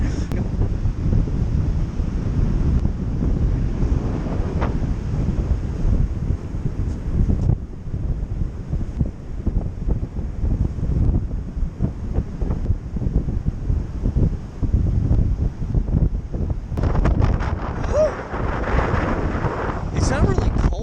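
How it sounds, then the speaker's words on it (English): Strong, intense wind buffets the microphone at a beach with massive tides, a loud, constant low roar with gusty swells and hints of surf behind it. "It's not really cold, it's just the wind is just intense."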